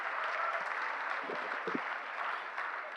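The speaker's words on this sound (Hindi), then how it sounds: "तालियां पीछे वाले कम बजा रहे हैं साहब।" An audience at a Haryanvi comedy performance claps continuously, a steady wash of applause heard from some distance, alone without talk over it.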